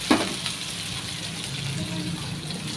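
Food frying in a pan while cooking sabudana khichdi, a steady, moderately loud sizzle and hiss running throughout, close up, with one brief clatter near the start.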